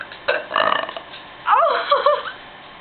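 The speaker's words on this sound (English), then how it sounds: "I can do the best burps in the world" A teenage girl lets out loud, close burps, a short one followed by a longer drawn-out belch, with a brief vocal rasp between them.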